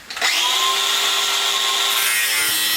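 An angle grinder cuts through a metal lighting rail, kicking in with a sharp start and then a loud sustained high whine that shifts slightly in pitch near the end, with no talking.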